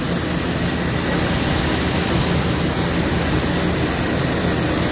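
Rocket ships lift off in the Tiny Space Program mobile pixel-art game with a loud, steady, broadband engine roar that holds unbroken throughout, with no speech over it.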